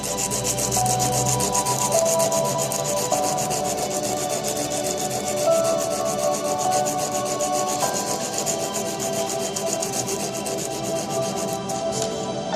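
A part for an improvised fountain pen rubbed back and forth on sandpaper, a continuous rapid gritty scratching close up that runs without pause and without voices.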